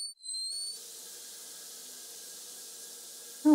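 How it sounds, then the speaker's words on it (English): Steady hiss of a shower running in the indie horror stealth game Deadly Night, continuous and fairly soft, with a faint tonal hum beneath and a brief whistling tone before the water starts. "Oh, she's taking a shower."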